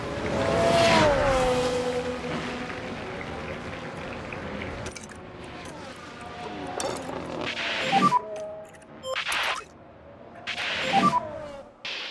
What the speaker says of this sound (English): the engine notes and the sounds of the track environment really spread the F1 feeling